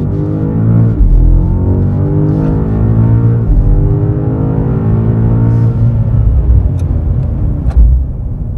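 A 2024 BMW M5, a heavy 2.5-tonne car, accelerates hard, its loud engine climbing in pitch, briefly dipping at each gear change and then rising again, heard from close up with a deep rumble.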